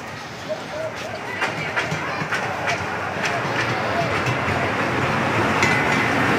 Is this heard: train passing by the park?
yes